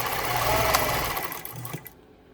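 A Pfaff 230 sewing machine runs a straight stitch, a fast steady mechanical whir with rhythmic needle clatter, loud and close, then it stops abruptly near the end.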